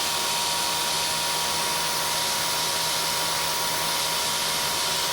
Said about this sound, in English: Got a little mist coolant going here.